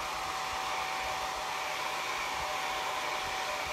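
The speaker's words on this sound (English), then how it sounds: "I'm never that patient, so I always grab my blow dryer." A blow dryer runs continuously on a painted bee decor sign, a loud steady rushing whir with a constant whine throughout and no voices.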